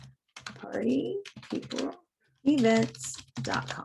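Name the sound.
computer keyboard typing a website address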